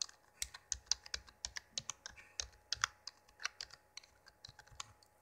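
Someone types a password on a computer keyboard: a quick, irregular run of crisp key clicks close up in a quiet room, with no talking.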